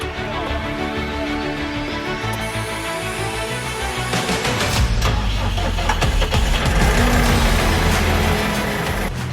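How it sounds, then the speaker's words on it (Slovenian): A small tractor pulling a trailer during a corn harvest in very wet weather, its engine running steadily and growing louder and rougher midway, with a voice talking over it. "tak mali traktor pa taka prikolica, koliko to gre?"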